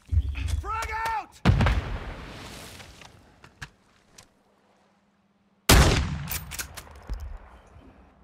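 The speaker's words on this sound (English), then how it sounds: "Throwing grenade!" In Call of Duty: Modern Warfare II, a grenade explosion and gunfire erupt in loud bursts, with a rumbling blast, a short lull with faint hum, then another heavy burst of shots.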